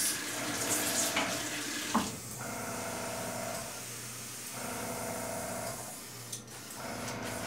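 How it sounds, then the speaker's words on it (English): Tap water runs steadily from a faucet to rinse and back-flush a plastic injection gun tip used for making custom fishing tackle, with a continuous mid-level splashing stream and a couple of brief knocks. "come over here and rinse it out. Back flush it."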